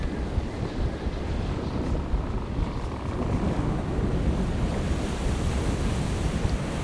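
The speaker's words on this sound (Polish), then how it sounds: "Oj, oj, oj, ale fale." Sea waves wash and surge against a sailing boat's hull in a steady, loud roar of surf, with gusty wind buffeting the microphone throughout and no voices.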